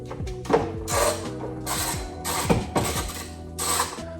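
A ratchet turning a deep 10 mm socket on a roughly 2.5-foot extension, working a bolt on a stud for a Nissan 370Z spoiler: repeated close metallic pawl clicks in quick bursts with brief pauses between strokes.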